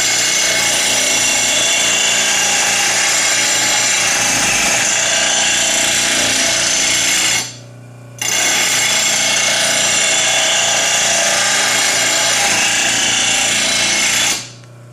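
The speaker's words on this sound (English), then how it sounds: "couple passes with the rotary blade grinder" A rotary blade grinder sharpens lawn mower blades with a loud, harsh, continuous grinding roar in two long passes, each broken by a brief pause, close and without talk.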